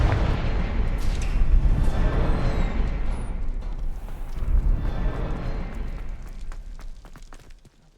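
Confringo blasting spell explosion in Hogwarts Legacy: a loud, deep boom with a long rumbling tail, a second swell of rumble midway, then crackling debris fading out, close and powerful.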